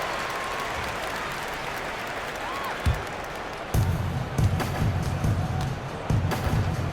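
Crowd noise in an NBA 2K18 basketball game between the LA Clippers and Dallas Mavericks: a continuous wash of applause and cheering, with sharper thuds and bursts rising in the second half.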